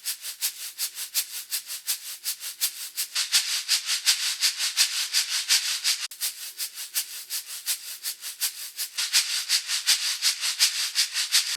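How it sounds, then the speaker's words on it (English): Two shakers panned left and right and thickened with saturation play a steady, fast rhythmic pattern of bright, hissy pulses, loud and continuous without pause. "I've got 2 shakers panned left and right, and I wanted them to sound a lot thicker"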